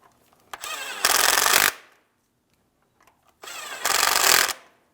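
A ratchet clicks rapidly in two separate bursts, each under a second, with quiet between them, as mounting bolts are snugged on the oil cooler hose of a 2007-2014 GMC Sierra 2500 HD 6.0L.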